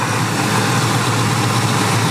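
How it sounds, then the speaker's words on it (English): A supercharged 5.4 litre engine in a 2002 Ford F150 Lightning runs with the supercharger wastegate disconnected, giving a loud, steady, close drone with a constant low hum and broad roar, no voices. "we can hear that it's actuating because there's a different sound coming from the engine"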